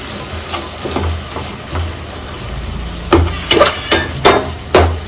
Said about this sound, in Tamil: டொமேட்டோ நல்லா ஸ்மாஷ் ஆகட்டும்.